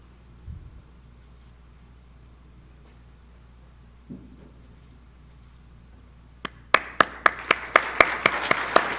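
Applause starts abruptly after a long near-silent stretch, a burst of sharp, loud claps from a standing audience at a medal ceremony that keeps going to the end.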